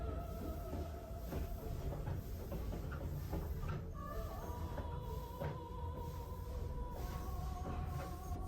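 A Thomas the Tank Engine themed train pulls into Ieyama Station in Japan, a steady rumble and hiss of rolling stock with sustained tonal brake squeals and occasional clicks, close and continuous with no talking.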